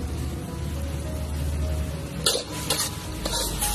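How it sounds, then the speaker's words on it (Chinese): Tofu skin and green and red pepper slices stir-fried in a wok, a low simmering bubble under a hum, then brisk scraping tosses of the spatula in short bursts. "继续给它翻炒"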